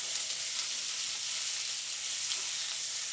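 Orange BBQ ribs sear in a hot pan with a steady, dense sizzle that stays loud and even for a few seconds, with no talking.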